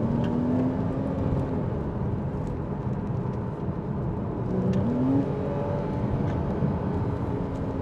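A 2013 Porsche Boxster 981 S with a 3.4-litre engine and PDK gearbox accelerates on the road, its steady engine drone rising and shifting in pitch under constant road and wind noise, with no talking.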